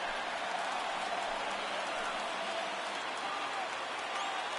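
Crowd at a baseball stadium in a late-inning rally, Athletics versus Orioles, a steady broad roar of cheering noise filling the whole stretch, distant and continuous with no distinct bursts.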